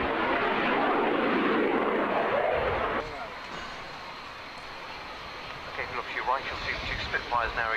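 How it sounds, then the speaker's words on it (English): Supermarine Spitfires fitted with Griffon and Merlin engines fly past, a loud, broad piston-engine roar that drops to a fainter, steadier drone, with voices talking over the later part. "Spitfires now returning. It's a good time to compare the two different engines used to power the Spitfire."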